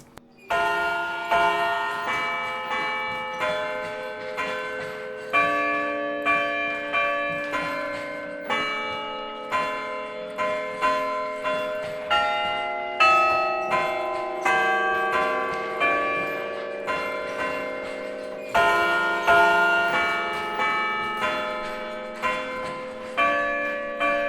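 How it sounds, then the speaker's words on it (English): Church bells rung on an Ellacombe chiming clavier at St. Paul's Church, Hamilton, tower bells in long use, play a steady tune of overlapping ringing strikes with long sustained tones, fairly loud and continuous, with no talk. "the bells in these towers have generally been in continuous use for over 100 years"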